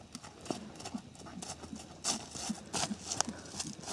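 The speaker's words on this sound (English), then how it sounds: "Hello, big horses." Big horses walk outdoors at night, hooves clip-clopping in an uneven plodding rhythm, close by, with soft voices murmuring underneath.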